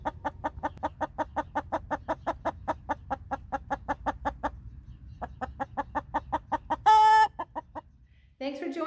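Hens cluck in a steady, rapid series close by on a historic farmstead, pausing briefly before resuming, with a louder squawk near the end.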